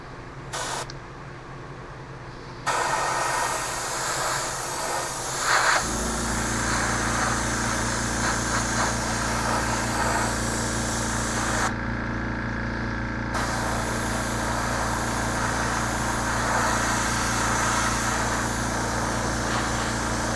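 Spray paint hisses steadily onto a Revell 1/700 Colombo Express container ship model kit, a broad continuous hiss with brief pauses over a low constant hum.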